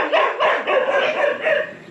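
A dog barks several times in quick succession, close and fairly loud, with a couple of yip-like calls near a cow in a rural setting in Puerto Rico.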